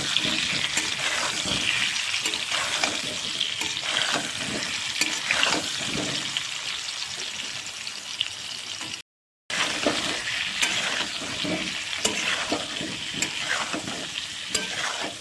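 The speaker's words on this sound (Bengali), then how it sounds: "আলুগুলো একটু ভেজে নিচ্ছি" New potatoes sizzle in a hot pan while a spatula stirs and scrapes repeatedly, a continuous crackling fry close by with a brief gap midway.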